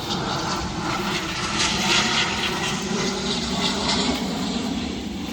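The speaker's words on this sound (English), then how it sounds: "As we have a plane go by" An airplane passes overhead above an outdoor cemetery, producing a continuous broad engine roar that swells slightly and then eases, moderately loud and heard alone with no talking.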